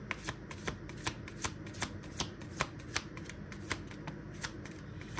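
A deck of cards is riffled and shuffled close by, a quiet rapid run of crisp flicks and snaps in an uneven rhythm with no talking.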